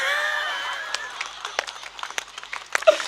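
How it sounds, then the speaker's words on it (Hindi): Audience at a Hindi comedy poetry show breaking into scattered, uneven clapping that starts sparse and grows into a brief ragged patter, heard moderately near after a held tone fades. "अच्छा कईयों ने झट से ताली भी मार ली"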